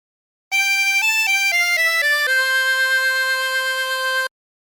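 A 24-hole tremolo harmonica plays a short La Cucaracha melody of quick stepped notes with a slight wavering tremolo, ending on a long sustained note. Clear, close and solo.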